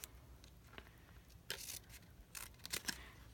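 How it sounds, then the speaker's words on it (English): Scissors snipping a small miter cut into a paper box flap, a few quiet crisp snips and paper rustles clustered toward the end, close and faint with no talking. "I'm going to just take my scissors and I'm going to just give this thing here just a teeny miter cut"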